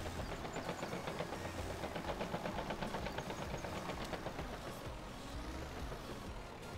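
Crawler tractor tracks in Farming Simulator 17 give a steady, fast rhythmic clanking over a continuous engine rumble, moderately loud and without voices.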